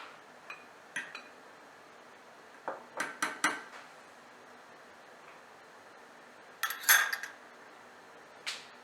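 Metal utensil scraping and clinking against a pan while pomegranate sauce with ginger syrup is stirred, several short bursts of clatter spread across the stretch with quiet gaps between, close and fairly soft.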